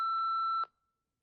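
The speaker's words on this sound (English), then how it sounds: "Leave a short message after the tone" A single steady electronic answering machine beep tone, loud and alone, holding for about half a second before cutting off into silence.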